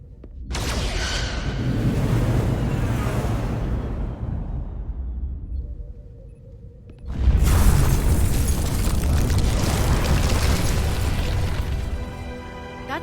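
Starship weapons fire and explosions in Star Trek: Resurgence, two long, heavy booming barrages with rumbling debris separated by a brief quieter lull, ending with crackling electronic tones.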